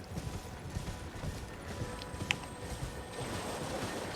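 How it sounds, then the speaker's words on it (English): Horse hooves clip-clop steadily at a gallop in the video game Elden Ring, a continuous rhythmic drumming mixed with wind and ambient noise. "get on your horse."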